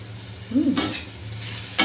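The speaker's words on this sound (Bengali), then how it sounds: "এটাও জাস্ট ফোড়ন আর হলুদ লঙ্কার গুঁড়ো দিয়ে আমি ভাজব" Spices fry in oil with turmeric and chilli powder in a pan, giving a close, steady sizzle that bursts louder as a spatula scrapes and stirs, twice in quick strokes.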